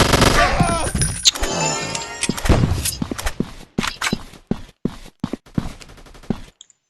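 Gunfire in the shooter video game Strike Ops, starting with dense overlapping bursts under game sounds and voices, then breaking into loud separate shots and short clusters.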